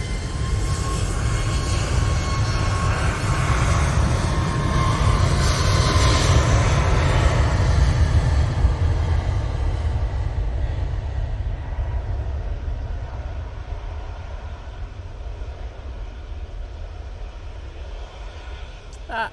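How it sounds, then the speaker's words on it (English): A Boeing 737 MAX 8 jet bound for Krakow passes as a loud, broad roar that slowly fades over about twenty seconds, with faint talk in the background. "That 737 MAX 8 that just snuck up on me. It's off to Krakow."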